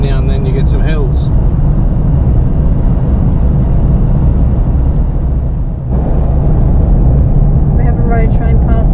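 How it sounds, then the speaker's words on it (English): A road train truck roars past on an outback highway in a steady, loud, broadband rush of engine and tyre noise that fills the clip, with a brief dip near the end, heard from inside a moving vehicle. "Road train passing us."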